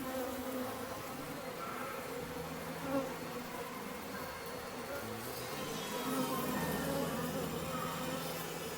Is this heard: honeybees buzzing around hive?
yes